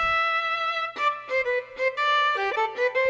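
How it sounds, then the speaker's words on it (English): A jazz violin voice on a Yamaha Genos 2 arranger keyboard plays a short melodic phrase of sustained, vibrato-tinged notes with several note changes, moderately loud and close, with no talking. "If I just play the violin, it sounds like this."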